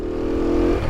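A Honda CT70 motorcycle fitted with an 88cc engine kit revs briefly, giving a steady, close, buzzing engine drone whose pitch holds and then drops slightly.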